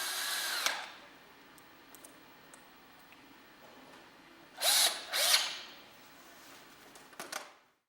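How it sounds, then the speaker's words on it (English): A power drill drives metal screws into the plastic-joined corners of a modular sauna base frame. There is one short whir at the start, then two louder close bursts a few seconds later, with faint clicks in quiet gaps between. "fastened by inserting the plastic joiners and screwing the joints together"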